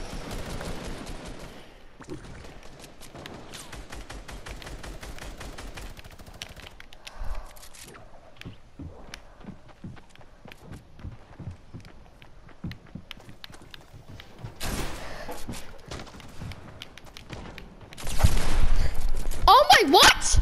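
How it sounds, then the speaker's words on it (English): Gunfire in a Fortnite match, rapid bursts of sharp shots and scattered single cracks across the clip, with footsteps and a louder flurry of fire near the end. "I keep getting shot! I get shot from every direction at every time."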